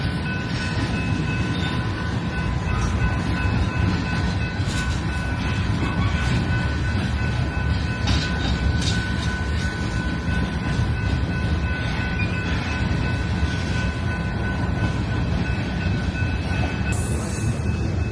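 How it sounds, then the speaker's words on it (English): Real trains passing a railroad museum, a loud continuous rumble of rail cars rolling by up close, with wheel squeal and rhythmic clatter throughout and no talking. "And they got the real trains going by."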